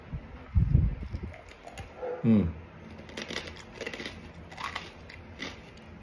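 Crunchy fried pork belly (liempo) being bitten and chewed close up, with a few crisp crackling bites and crunches spread across a quiet background.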